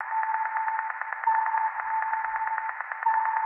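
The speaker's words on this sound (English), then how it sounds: "And then some reverb on there." A steady band of processed techno tone pulses in a fast, even rhythm, washed in reverb that smears each hit into a sustained shimmer, with no voices.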